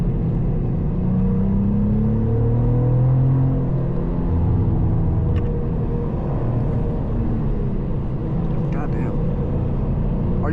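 A Cadillac CT4-V Blackwing drives and accelerates, with a steady, loud, low engine and road rumble heard from inside the car and faint voices underneath.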